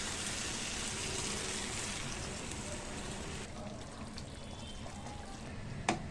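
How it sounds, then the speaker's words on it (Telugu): Half a glass of water goes into a pan of stuffed brinjal curry with tamarind juice, a steady hissing, bubbling pour lasting a few seconds that settles into quieter simmering, ending with a small clink. "ఇందులో కొన్ని హాఫ్ గ్లాస్ వాటర్ కూడా వేస్తున్నా."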